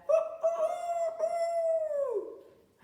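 A woman reading a children's farmyard story aloud imitates a rooster crowing with her voice, giving one long, drawn-out, tonal cock-a-doodle call that rises, holds steady and then slides down at the end, close and clear.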